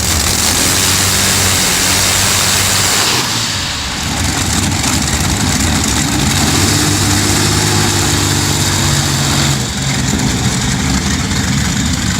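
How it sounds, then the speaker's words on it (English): Three huge, rare old fridge-sized V12 aircraft engines run at a cold start with a loud, continuous, deep, thunderous roar that barely changes for the whole stretch. "packing 3 fridge-sized V12 engines, roars like a Midwest thunderstorm"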